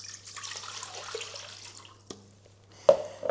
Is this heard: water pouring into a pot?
yes